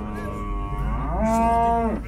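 A single long, loud moo from a calf or bull at a livestock market rises and holds steady before cutting off, close and alone against a low background hum.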